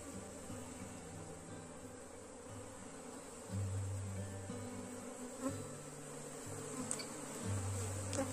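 Honeybees at a beehive, a continuous close buzzing hum that swells and shifts in pitch as individual bees pass near, with no talking.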